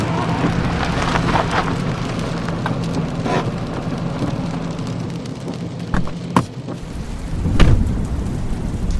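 Heavy rain falls steadily outside a hotel in the evening, a dense, loud hiss with rolls of thunder rumbling through it and a sharper crack near the end, with no voices.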